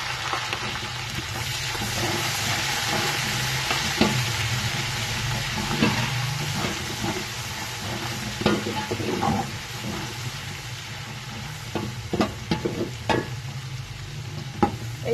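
Browned onions with freshly added ginger garlic paste frying in a pan for chicken biryani, a steady close sizzle broken by sharp clicks and scrapes of stirring, no talking.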